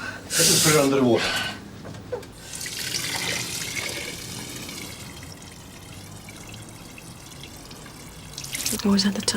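Tap water runs into a sink as something is held under the stream, a steady splashing flow with brief drips, while people talk over it at the start and end.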